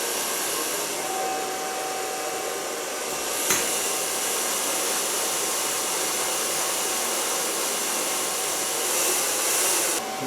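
A hair dryer blows steadily during a blow-dry of a woman's hair, a loud, continuous whooshing hiss with a faint whine, broken by one brief knock partway through.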